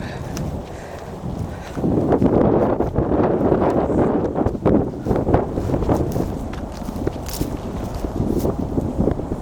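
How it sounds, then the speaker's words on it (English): Strong wind blowing outdoors across grass, a steady loud rushing roar with gusty buffeting against the microphone throughout. "I could feel the wind blowing on my hand"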